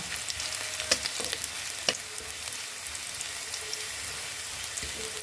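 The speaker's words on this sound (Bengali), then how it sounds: "পেঁয়াজটা লাল লাল করে ভাজবো" Onion frying in oil until reddish, a soft crackling sizzle with scattered pops and a few clinks of the stirring spoon, close and fairly quiet, no speech.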